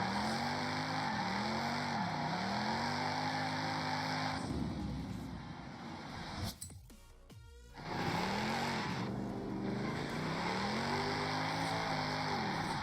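A Mercedes-Benz SLK in the racing game Forza Horizon 5 spins through a 360: a steady, loud engine drone with rising and falling revs, then a brief cut and tire screech mid-spin before the engine resumes, no voices.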